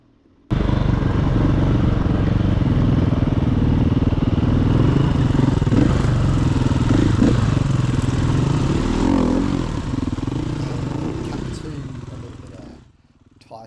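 A KTM 350 EXC-F dirt bike runs steadily on a tight, rocky singletrack trail, its close, loud engine droning continuously with clattering and scraping over rough ground, and tapers off near the end.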